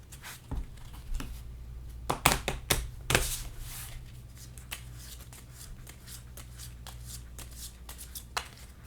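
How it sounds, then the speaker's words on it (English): A deck of cards from the Pandemic: Reign of Cthulhu board game is shuffled by hand, giving soft riffling and flicking bursts with a few sharper snaps, quiet and close over faint room hum. "And then we gotta shuffle these."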